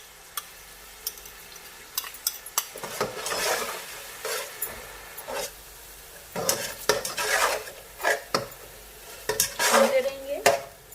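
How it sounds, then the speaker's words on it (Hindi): Ginger garlic paste sizzling and frying in a pot while a spoon scrapes and stirs in bursts, metal clinking against the pan, close and steady, no voices. "अदरक लहसुन की तेज़ स्मेल होती है वो ख़त्म हो जाएगी, तब तक थोड़ा भूनते रहिएगा इसे।"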